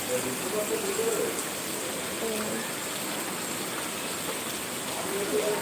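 Heavy rain pours steadily over Mirpur in a constant, even roar, with faint murmuring voices now and then beneath it.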